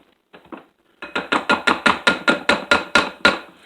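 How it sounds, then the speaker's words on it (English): A scraper tool works around a mixing bowl of cheesecake pie batter, making about a dozen quick, evenly spaced scraping strokes close by, after a couple of lighter touches. No one speaks. "We're just going to scrape our bowl down and get it all back in the middle."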